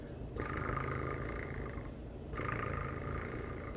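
A person imitates a cat's purr with a rolling, vibrating tongue trill, two sustained buzzing stretches separated by a brief pause.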